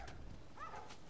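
A dog in the video game The Last of Us gives a brief, faint bark or yip, heard once against a quiet background.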